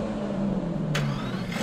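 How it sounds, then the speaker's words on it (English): A 2019 Aston Martin DBS Superleggera engine starting, a brief low mechanical rumble that turns into a sharp rising rev partway through. "But the sound of starting the car is what rocks my world."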